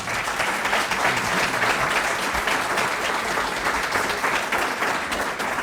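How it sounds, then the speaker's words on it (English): Dense, steady applause from an audience for a panel, many hands clapping together at even volume throughout, close and full with no pauses. "let's give them a round of applause"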